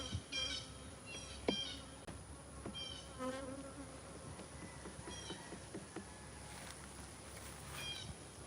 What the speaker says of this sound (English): It's a guard bee.